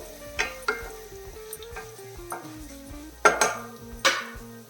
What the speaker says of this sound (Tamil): இந்த சூட்லேயே அந்த கறிவேப்பிலை நல்லா பொரிஞ்சு வந்துடும்